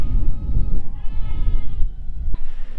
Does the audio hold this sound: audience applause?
no